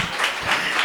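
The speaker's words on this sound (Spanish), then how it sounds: "pido un fuerte aplauso por el jaleón que le has metido" A brief burst of dense audience applause fills a public talk on gender conflicts in Benalmádena, steady and unbroken for under a second.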